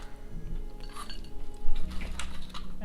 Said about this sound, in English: here we will take the shrimps out in our serving plate